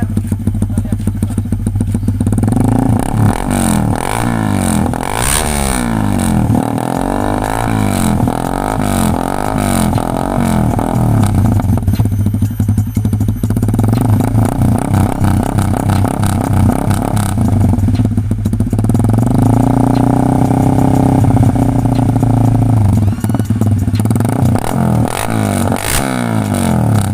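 A Honda Sonic 150R motorcycle with an SC Project exhaust is revved repeatedly at close range, loud throttle blips rising and falling over a lumpy idle, with a longer sustained rev near the end.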